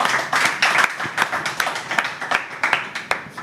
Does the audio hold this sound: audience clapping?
yes